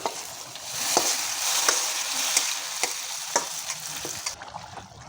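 Fried onions with dried chilies sizzle steadily in a pan for a Bangladeshi potato dish, a bright continuous hiss broken by regular clicking stirs of a spoon, fairly close and without talk.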